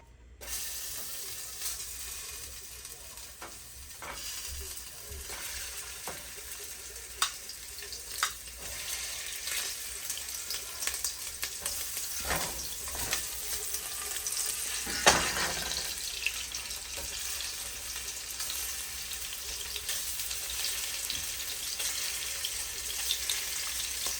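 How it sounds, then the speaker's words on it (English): Meatballs fry in hot bacon grease in a pan, giving a continuous crackling sizzle at moderate loudness with scattered pops and occasional clicks over about twenty-four seconds and no talking. "put a little bit of this bacon grease in there. We can go ahead and fry these bad boys up."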